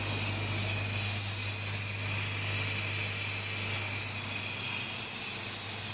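An Atlas Copco SF8 compressor runs with both motors engaged, giving a steady, close mechanical drone with a low hum and a persistent high whine, unbroken throughout.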